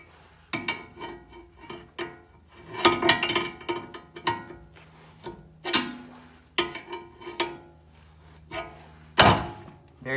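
A ball joint is pressed out of a car's steering knuckle during suspension repair, giving a string of sharp, close metallic knocks and clicks punctuated by a few louder bangs, with no speech.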